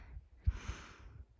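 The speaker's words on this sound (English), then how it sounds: "Forgive my heavy breathing." Heavy, winded breathing from someone who has just hurried up a steep hill on a winter hike, with a sharp close gasping intake in the middle and softer breaths around it.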